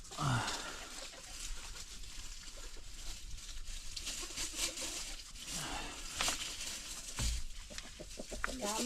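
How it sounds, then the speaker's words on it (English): A chicken clucks near an under-home plumbing job on a manufactured home, with a few short clucks over a noisy, rustling background and a muffled voice in places. "Don't make so much noise, chicken."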